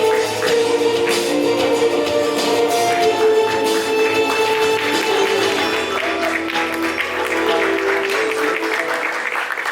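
Loud, sustained applause from a crowd at a Shark Tank India Season 4 press conference, steady clapping filling the room for the whole stretch as a guest is welcomed.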